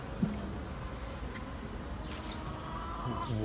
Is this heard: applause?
no